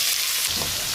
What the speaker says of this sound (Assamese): তেল পূৰা গৰম হৈ গ'ল আৰু ইয়াতে দি দিম এতিয়া মই পিঁয়াজ